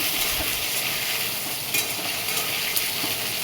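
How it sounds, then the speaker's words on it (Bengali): Eggplant, garlic and green chilies fry in hot oil seasoned with nigella seeds, making a dense, bright, steady sizzle close by, with no voices. "বেগুন আর কাঁচা লঙ্কা দিয়ে দিলাম রসুন কাঁচা লঙ্কা দিয়ে একটু ভালো করে ভেজে নেব"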